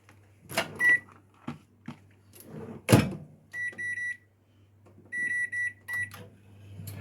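Microwave oven heating French fries as a side dish: door and button clicks, a few short electronic beeps, a low steady hum of the running oven, then a series of completion beeps, close and clear with no talk.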